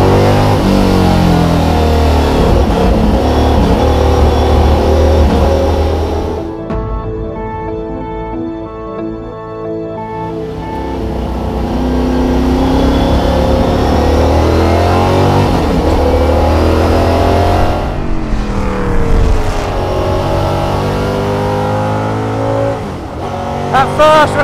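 A 650bhp V8 Lola T70 race car on a track, its engine loud and sustained with revs rising and falling through gear changes, easing off mid-clip before building again.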